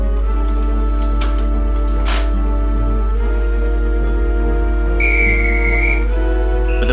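A steam locomotive at Quorn and Woodhouse station on a heritage railway gives a brief, high, steady whistle blast over a constant low engine rumble and hiss.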